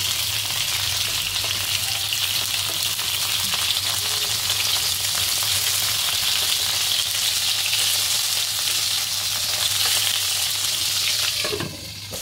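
Eggplant and pointed gourd frying in plenty of oil for a mixed hilsa fish curry, a steady loud sizzle running throughout with a brief stir near the end and no talk.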